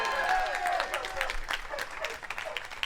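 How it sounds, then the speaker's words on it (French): A crowd at a live dog-charity tour event in Béziers breaks into applause, loud at first and then thinning, with a presenter's voice carrying over the clapping. "Bon, et ben c'est vrai qu'on peut les applaudir."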